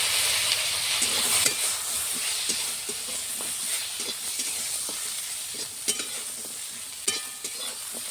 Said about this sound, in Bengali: সজনে ডাঁটাগুলো দিয়ে দিচ্ছি।